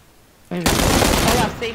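Gunfire in PUBG erupts as a sudden loud burst of rapid automatic shots after a brief quiet moment. It fires continuously for about a second, then tails off as a voice comes in.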